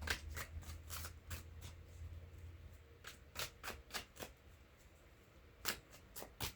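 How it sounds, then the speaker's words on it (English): Tarot cards being shuffled by hand in a series of quick riffling bursts with short pauses between, close and crisp, no voices. "Alright, one more good shuffle,"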